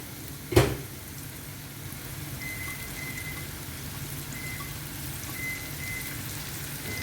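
Leftover bottle gourd pieces sizzle over high heat in a pan: one sharp clank at the start, then a steady, soft hiss of frying that carries on throughout with no talk.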